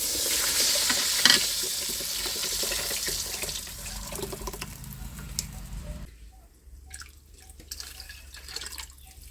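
Tamarind water pours and splashes steadily into a pan of hot oil for fish curry, with a bright hiss, tapering off into quieter drips and faint sizzling.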